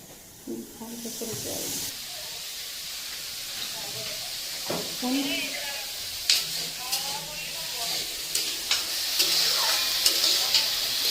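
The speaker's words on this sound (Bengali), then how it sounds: "আমি আলুটা ভেজে নিচ্ছি ঘুগনির জন্য" Potatoes fry in a pan for ghugni with a continuous hiss and sizzle, punctuated by occasional crackles and clinks, while someone talks over it.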